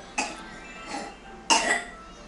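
A person coughs three times in close succession, harsh and nearby, the first and last bursts strongest, with a quiet room in between.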